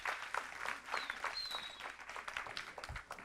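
Applause at a school board meeting, a fairly quiet, uneven patter of claps from a modest audience with a few sharper hits and faint high squeaks mixed in.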